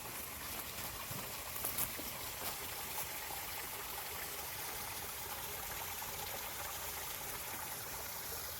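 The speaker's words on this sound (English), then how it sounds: "We got a dang old waterfall in our backyard." A backyard waterfall after heavy December rain, a steady broadband rush of flowing water with no breaks, fairly distant and even.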